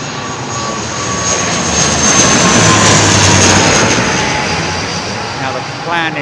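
A big jet airliner passes overhead near London Heathrow with a loud, sustained, broad roar that swells toward the middle and eases off again, steady and close throughout.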